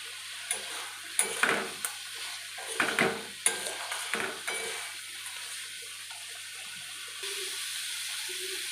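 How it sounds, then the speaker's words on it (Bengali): Crab pieces are stirred into spice masala in a pan, giving a soft sizzle broken by scraping stirs that come in close, uneven bursts. The sound fades to a quieter, steady fry toward the end, and nobody speaks. "কাঁকড়াগুলো দিয়ে ভালো করে মশলার সাথে কষাতে হবে সুন্দরভাবে, যাতে কাঁকড়ার মধ্যে মশলাটা পুরো একদম লেগে যায়।"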